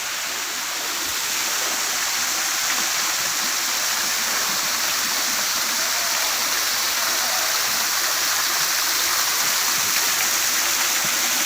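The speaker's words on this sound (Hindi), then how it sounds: "ये पानी, ये बहता हुआ पानी" Water from an ashram pool at Dharkundi, Satna, flows away as a stream: a loud, close, steady rushing wash that holds unbroken throughout.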